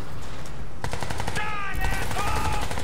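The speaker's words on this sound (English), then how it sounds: "I thought I was getting shot from somewhere" Video game gunfire in Crysis 3 crackles as a quick burst of sharp shots, dense and rapid, with more rattling fire building toward the end over a low background rumble.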